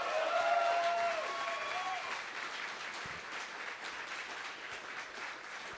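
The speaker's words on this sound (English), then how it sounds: "One more round of applause before we begin our Q&A session." Audience applause after a live jazz performance, a dense wash of clapping from a crowd that starts strong, with a few cheers or whistles early on, then gradually thins and softens.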